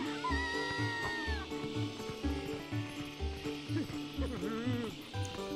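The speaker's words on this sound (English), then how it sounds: "That's a cat." Cat meowing in the video game Twilight Princess, several drawn-out mews rising and falling over steady, tonal in-game music with a low pulsing beat.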